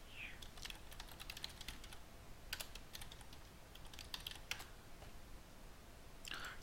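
Fast bursts of computer keyboard typing, crisp close key clicks in quick clusters with short gaps between them, set against a faint quiet room background.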